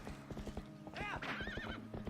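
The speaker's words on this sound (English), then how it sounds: "I'm not sure I feel about spurring a horse." A horse in the video game The Legend of Zelda: Twilight Princess is spurred into a gallop, with rapid rhythmic hoofbeats and then a high, wavering neigh over the running, close and fairly quiet.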